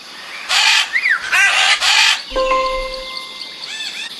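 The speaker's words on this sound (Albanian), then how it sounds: "Çfarë tingulli bën papagalli?" Harsh, raspy parrot squawks burst out three times in quick succession, followed by a few shrill whistled tones and softer chirps, loud and close.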